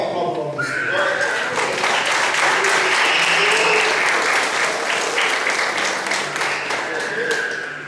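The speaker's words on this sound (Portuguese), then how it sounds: "Dá uma aplauso ao nome do Senhor." A church congregation breaks into loud, sustained applause that swells and holds for several seconds, with a voice speaking over the clapping.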